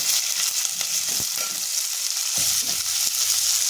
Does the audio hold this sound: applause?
no